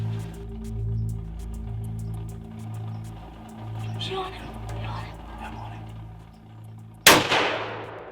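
A single loud rifle shot at a buck during a Kentucky deer hunt cracks out near the end, sharp and close, after a stretch of low rumbling field noise, with a long ringing tail.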